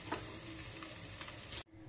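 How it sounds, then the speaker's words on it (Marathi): Masala-coated eggs fry in a hot pan with a steady close sizzle and brief stirring scrapes, then cut off abruptly near the end as the flame is turned off. "मस्त असा दोघं साइडने अंडे छान असे फ्राय झालेले आहेत"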